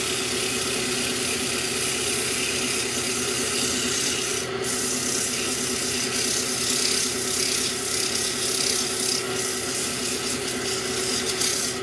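Rough wood is sanded by hand in a workshop, making a continuous close scratching rub that runs steadily throughout, with a low engine-like hum underneath and no speech.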